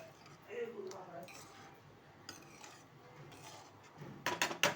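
A spoon scrapes and clinks against a pot while a pigeon pea vegetable curry with salt is stirred. The taps and clatter are sparse and light, with a few sharper clinks near the end, and there is some talking.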